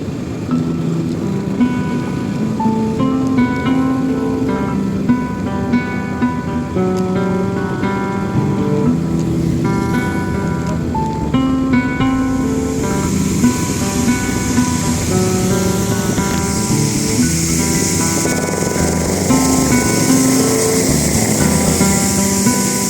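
Heavy rain drums steadily on a vehicle during a road trip from Gorakhpur to Pokhara, a dense continuous wash with engine and road rumble underneath and faint musical tones throughout.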